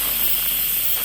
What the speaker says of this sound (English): carefully release the remaining steam